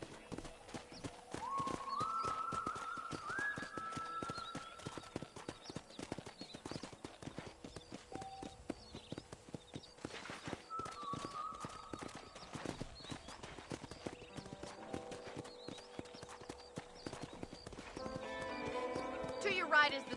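A horse's hooves clip-clop at a steady walking rhythm in the Red Dead Redemption video game, with occasional whinnies, game music tones and spoken dialogue over the hoofbeats.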